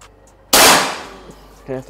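A PCP Pasopati Big Game 4000 psi air rifle fires one close, loud, sharp report outdoors, which fades over about half a second. A voice begins speaking just after.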